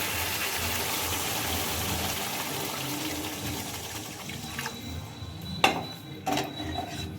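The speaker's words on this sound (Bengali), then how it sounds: "এরপর আমি আস্তে আস্তে জল দিতে থাকবো" Water poured slowly into a pan of Bengali fish curry made with nut paste, a steady gushing pour that fades out, followed by a few clinks of a utensil against the pan.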